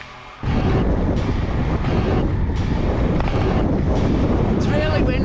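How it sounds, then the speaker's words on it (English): Strong wind suddenly roars across the microphone during an outdoor bike ride and keeps buffeting it in loud, continuous gusts. "It's really windy."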